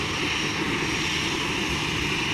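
A Biman Bangladesh Airlines airplane on the runway gives off a steady, loud engine roar, a continuous broadband drone heard from close range with no voices.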